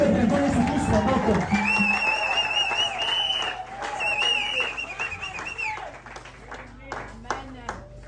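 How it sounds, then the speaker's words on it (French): A church congregation applauds the Lord steadily, clapping blending into a dense wash, with a bright sustained tone and some voices over it that fade near the end. "Applaudissez pour le Seigneur"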